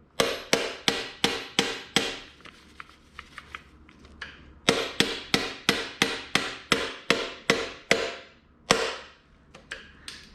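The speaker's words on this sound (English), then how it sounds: "then start to hammer that through" Sharp metallic hammer blows drive a Chevrolet C5 Corvette shifter shaft into place, close and loud, in two quick even bursts of about ten strikes each, split by a short quiet gap, then a few final taps.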